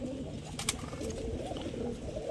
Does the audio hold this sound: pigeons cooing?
yes